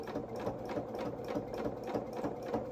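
Steady, continuous whirr of a sewing machine stitching along the back of a doll's coverall collar, with a fast even rhythm running close and clear for the whole stretch.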